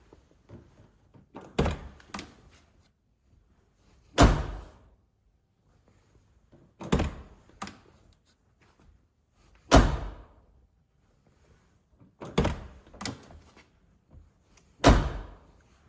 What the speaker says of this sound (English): Is that the best door shutting sound ever?